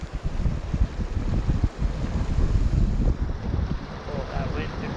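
Gusty wind buffets the microphone beside the Middle Provo River during fly fishing, a steady broadband rush with low rumbling gusts that runs through the whole stretch.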